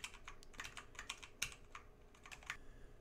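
Rapid typing on a computer keyboard while setting up code in Unity, with quick irregular key clicks and a few sharper strikes, close and fairly quiet, no talking.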